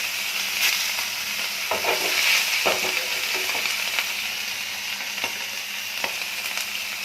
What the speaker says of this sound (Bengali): এবার একটু মাছটাও ভেজে নেব